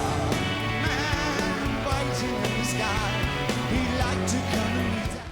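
A song plays as a full, dense rock mix at steady loudness throughout, with layered instruments and a beat, fading slightly at the very end.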